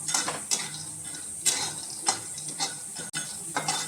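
Pistachios dry roasting in a pan, giving intermittent scraping and rattling clicks as the nuts are stirred, close and fairly steady with a few sharper knocks, no talking.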